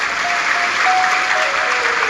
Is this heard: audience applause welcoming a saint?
yes